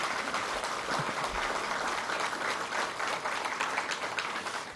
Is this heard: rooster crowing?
no